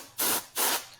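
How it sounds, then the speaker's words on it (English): Two short hissing bursts from a cold spray can hit an isomalt cake decoration, each blast lasting about a fifth of a second with a brief pause between them. "Now I'm using cold spray"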